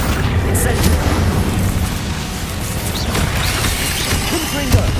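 Explosive spell blasts from a Hogwarts Legacy duel, a dense, loud run of booming impacts and crashes rolling one into another, with spoken spell names over the din.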